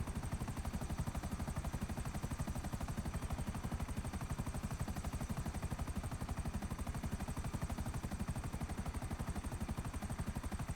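A helicopter in Grand Theft Auto on PS5 gives a steady, rapid rotor chop with a constant engine whine, loud and unbroken throughout with no talking.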